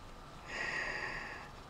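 A dog gives a single short, faint sniff and snort, a breathy huff lasting about a second in a quiet room.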